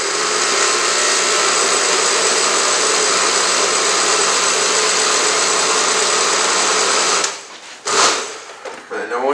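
A blender purees two cups of applesauce with a loud, steady motor whir for several seconds, then stops abruptly, followed by brief clunks and handling noises.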